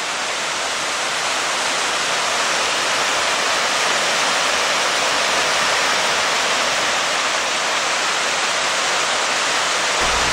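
A creek flows beneath an old trestle bridge near a historic iron furnace, a steady loud rushing wash of water with no other sounds.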